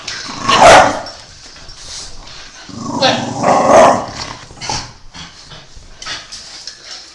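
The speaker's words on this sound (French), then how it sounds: "la douceur de mon chien" A dog growls and barks at close range indoors, with two louder bursts of growling and barking separated by quieter rumbles, while someone speaks briefly.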